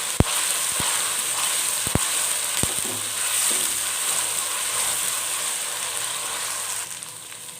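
Beef kofta masala with ginger garlic paste frying in a pan, giving a loud, steady close sizzle with a few sharp clinks of a spoon near the start and no talking.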